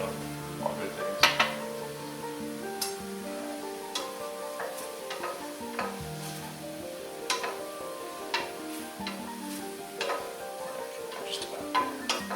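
Mushrooms cook in a pan seasoned with thyme and oregano, a steady sizzle beneath repeated clinks and scrapes of a utensil stirring against the pan, with a few louder knocks.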